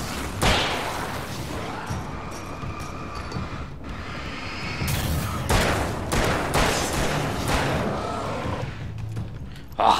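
Pistol and revolver shots in Alan Wake's American Nightmare, a string of sharp close reports and thuds over a steady game ambience, with a louder cluster of shots in the second half.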